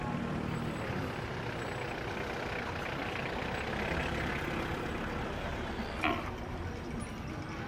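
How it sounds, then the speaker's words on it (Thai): Trucks rumble past at a busy cattle and water buffalo market in Warin, making a continuous, fairly loud broadband roar with a sharp brief hiss or clank near the end and faint voices in the background. "รถมากรถมากแป๊บหนึ่ง"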